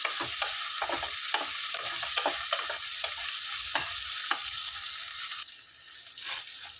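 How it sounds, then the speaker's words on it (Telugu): Bommidayilu fish frying in hot oil, a steady loud sizzle with crackling bursts throughout, the hiss easing slightly near the end. "వీటిని చక్కగా ఉప్పేసి క్లీన్ చేసుకున్నా ఇవి ఇందులో వేసుకుందాం వేసుకొని మంచిగా ఈ ఆయిల్లో ఫ్రై చేయాలి"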